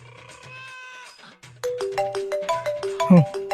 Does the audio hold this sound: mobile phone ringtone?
yes